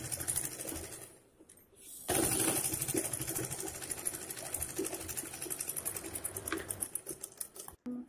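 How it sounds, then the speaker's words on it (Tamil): A sewing machine runs a seam along fabric for a hair bow, a quick, even chattering of stitches close by, briefly pausing before resuming at a steady pace. "ஃபுல்லாக லாஸ்ட் வரைக்கும் தையல் போட்டு எடுத்துக்கோங்க."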